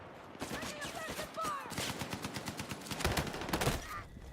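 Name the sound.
gunfire in a video game (Andromeda)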